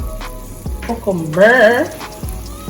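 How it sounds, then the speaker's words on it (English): Jamaican cook-up saltfish with cucumber sizzles in a pan with light stirring, a moderate frying hiss heard beneath bursts of talking and a sung or drawn-out vocal phrase. "Cook up saltfish with cucumber."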